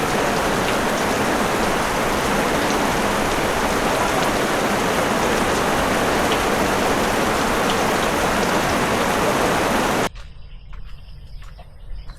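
Steady rain beats on a hut for about ten seconds, a dense, loud hiss of drops on the roof, then cuts off abruptly, leaving faint background sound and a few insect or bird calls.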